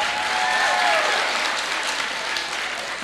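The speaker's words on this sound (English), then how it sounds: "Let us give Elena Mohati a clap" Conference audience at an early childhood development event applauds a speaker, steady dense clapping heard in a large hall, with a faint whistle-like tone and light murmuring beneath.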